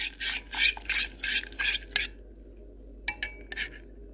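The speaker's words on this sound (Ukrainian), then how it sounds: "Одне яйце перемішуємо" A utensil stirs an egg into Belgian waffle batter in a bowl with quick repeated scraping strokes, then pauses before a few light clinks and taps.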